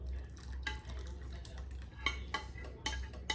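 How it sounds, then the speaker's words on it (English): Marinade juices for adobo chicken poured into a hot pan, a low steady pour and sizzle with a few clinks of a utensil against the pan, close and alone. "And then all of the marinating juices also go into the pan."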